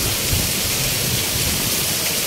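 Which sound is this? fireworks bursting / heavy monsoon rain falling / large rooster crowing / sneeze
heavy monsoon rain falling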